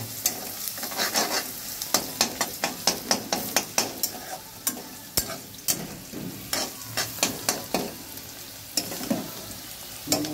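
Whole spices including mace frying in a pan for vegetable biryani, a close sizzle broken by sharp, repeated scraping and clicking stirs at an irregular rhythm, with no voices.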